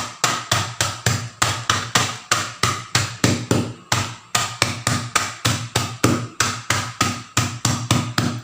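Oreo cookies are pounded into fine crumbs by hand, without a grinder, as a steady run of loud, evenly spaced thuds that each fade quickly, repeating about every half second throughout.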